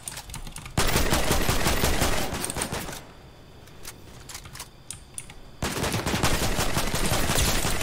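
Dense Fortnite gunfire roars in long, loud, close sustained bursts, drops to scattered shots and quieter gameplay sounds in the middle, then swells into heavy continuous fire again.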